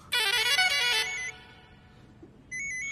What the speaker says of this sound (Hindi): जब भी आधी रात में फोन बजता है